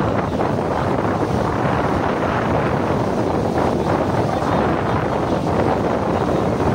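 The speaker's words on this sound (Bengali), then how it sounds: "আজকে ঢেউটা মারাত্মক, হেভি হেভি" Heavy sea waves break on a beach under strong wind, a continuous loud roaring wash with wind buffeting the microphone throughout and no clear speech.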